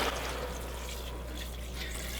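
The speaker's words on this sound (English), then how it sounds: "I'm going to add water." Water pours steadily into an Instant Pot for chicken stock, a continuous close splashing rush that holds at an even level for the whole stretch, with no talking.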